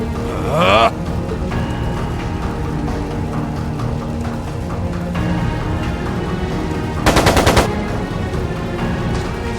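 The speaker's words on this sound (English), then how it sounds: "It sounded like a machine gun." Machine gun fire in the video game Trails of Cold Steel II comes as a brief, sharp burst of rapid shots, standing out over a dense bed of game music and effects.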